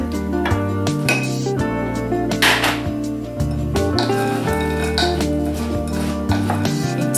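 Yogurt being stirred into muesli in a bowl for a yogurt and peach cake, with close, repeated clinks and scrapes of a utensil against the dish over a steady musical backing.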